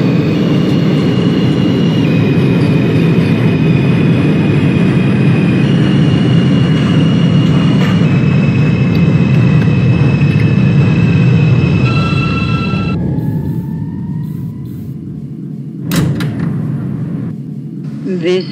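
An R160 subway train in the Openbve simulator, a Brooklyn-bound D Express, rumbles loudly along the track with steady tonal motor whine that shifts in pitch, then fades as it slows, followed by a sharp clunk.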